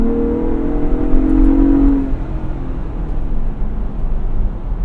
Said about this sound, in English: I'll do one more acceleration test here just to show you how great this vehicle is.